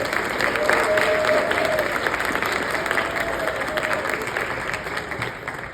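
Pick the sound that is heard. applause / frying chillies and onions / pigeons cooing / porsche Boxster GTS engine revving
applause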